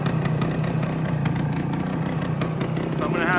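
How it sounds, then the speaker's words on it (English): A 1980 Suzuki TS185 motorcycle engine with a fresh top end idles with a steady, chugging rumble close by, running evenly throughout. "it's idling nice now"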